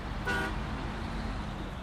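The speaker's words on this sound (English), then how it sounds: "Let's honk to let our friends know we're here." A truck horn in the off-road driving game SnowRunner gives one short tonal honk near the start, over a steady low engine rumble that continues alone afterward.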